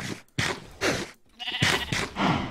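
Several sheep in Minecraft give a run of short bleats while being fed wheat on a farm, loud and close, one after another with brief gaps.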